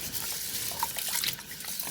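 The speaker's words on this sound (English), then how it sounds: "That was me washing the rice." Rice being rinsed in water for a weeknight dinner, giving a steady, close wet swishing and trickling with small drips throughout, with no voices.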